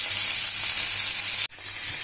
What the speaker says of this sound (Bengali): কিছু সময় ধরে আমার মাছটাকে ভাজতে হবে